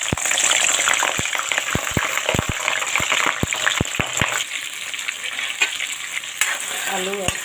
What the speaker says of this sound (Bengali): এখন সবজিগুলো ভেজে নেব।